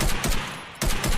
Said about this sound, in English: Oh, the old AK sounds, dude.